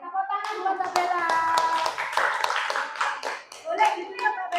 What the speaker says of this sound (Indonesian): Oke, tepuk tangan buat Mbak Bella.